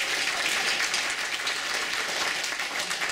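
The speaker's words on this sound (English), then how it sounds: "Let's give Jeff a round of applause." An audience at a City of Heroes player summit workshop gives a full round of applause, dense steady clapping from many hands that carries on for about three seconds with no talk.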